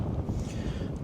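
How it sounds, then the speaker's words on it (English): A dense, buffeting rumble of wind, sustained 40 to 50 with gusts over 70, roars across the microphone, low and blustery, with no voices heard. "welcome to the windiest episode of the year"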